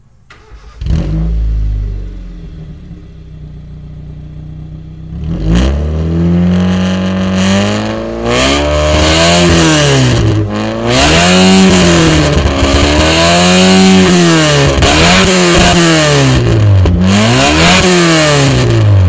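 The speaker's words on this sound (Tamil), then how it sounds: "எக்ஸாஸ்டோட சவுண்டு எந்த மாதிரியெல்லாம் கேட்குது அப்படின்றத இப்போ மைக்கை வச்சு நான் ஸ்டார்ட் பண்ணி அதோட சவுண்டையுமே உங்களுக்கு நான் காட்டுறேன்" A Honda City car's exhaust as the engine starts and is revved, loud and close, with a brief crank at the start and then repeated rising and falling revs that swell and drop in pitch over a steady idle.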